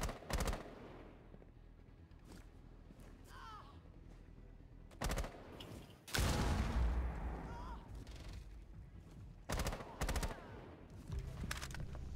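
Bursts of automatic gunfire in Rainbow Six Siege, with sharp rapid volleys recurring through the clip, some louder and closer, over a low game background.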